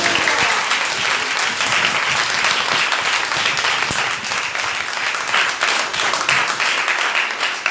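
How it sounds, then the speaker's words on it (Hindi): A church congregation claps loudly and continuously, dense applause filling the hall throughout, with faint voices mixed in beneath the clapping. "जोर से ताली"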